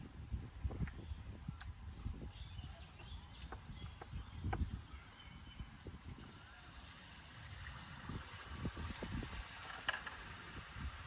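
Oil pitha rice cakes fry in hot oil in a village kitchen, giving a steady soft sizzle broken by faint clatters and stirring, at moderate level with background noise.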